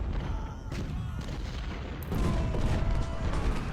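Dense, continuous battle din from the Civil War strategy game Ultimate General Civil War, with massed musket fire and booming artillery rolling together into a loud, steady roar that swells slightly partway through.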